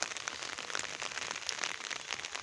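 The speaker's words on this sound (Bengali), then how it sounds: "এই তো বৃষ্টি শুরু হয়ে গেছে আজকে।" Light rain falling on chili plants, a soft, even patter with scattered drop ticks, steady for the whole stretch.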